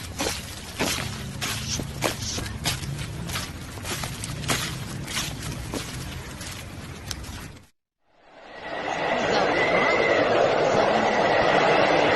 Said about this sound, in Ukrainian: Шурхоті осіннього листя